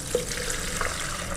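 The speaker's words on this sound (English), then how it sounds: "I will remove the water." Water is drained off soaked soybeans being prepared for tempeh, a steady splashing, running flow heard close and unbroken throughout.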